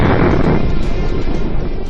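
A tank cannon fires in a single heavy, deep boom that fills the air and rumbles on with a long, dense roar.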